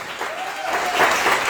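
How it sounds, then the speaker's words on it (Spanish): A congregation claps together during a church service, a dense sustained wash of applause filling the room, fairly loud and steady from start to finish. "Den un aplauso al Señor, por favor."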